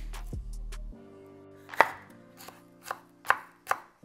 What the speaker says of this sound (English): I'm gonna dice half of a small white onion, 1 jalapeño